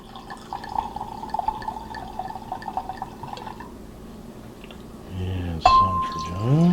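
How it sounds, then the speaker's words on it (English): Trader Joe's Amarone red wine pours into a glass close by, a gurgling trickle that rises in pitch as the glass fills, ending in a louder final splash and glug. "Let me pour some of this."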